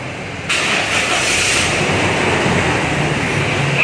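A used car's engine, still in original condition, turns over and catches, then runs with a steady, loud, close drone for the rest of the clip.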